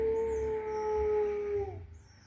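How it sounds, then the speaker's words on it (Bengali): A dog howls in one long, sustained, wavering note that fades out near the end, with rural morning ambience beside paddy fields behind it; no barking is evident. "একটি কুকুর ডাকছে"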